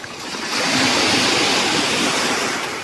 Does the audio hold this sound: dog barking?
no